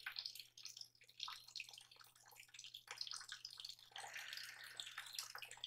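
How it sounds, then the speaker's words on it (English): Soft, steady trickle of running water with light splashing and dripping, faint and continuous, heard alone beneath a low background hum during a slow outdoor yoga session. "The sounds of the trickling water."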